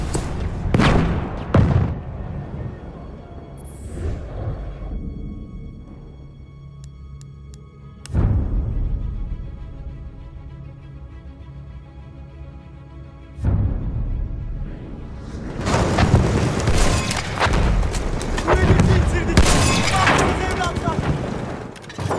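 Booming explosions in Battlefield 1 gameplay burst out loud at intervals and then build into a sustained, heavy stretch of blasts and gunfire toward the end, with voices heard in between.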